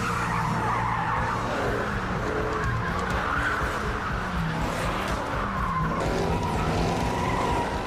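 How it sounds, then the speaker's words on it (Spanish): Car tires burn out and skid at an Ocean City car show, a loud continuous screech with engine roar that holds steady throughout, close by and with no talking. "Todos queman llantas."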